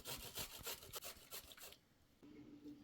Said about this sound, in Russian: Натираем на терке 2 плавленых сырка,